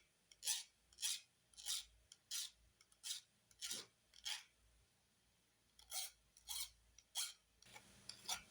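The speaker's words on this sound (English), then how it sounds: "I'm going to carry on filing these" Rasping file strokes on a copper cuff bracelet, about a dozen short, bright scraping bursts in a steady back-and-forth rhythm with a brief pause midway, close and fairly quiet, with no talking.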